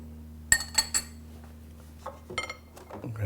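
A spoon clinks sharply against a pot three times, then scrapes and stirs softly through rice pudding with raisins, quiet and close with no talk.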